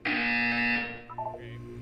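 A loud, harmonically rich electronic buzzer tone from a test chamber in the Portal 2 video game sounds alone for under a second, then cuts off into quieter game effects.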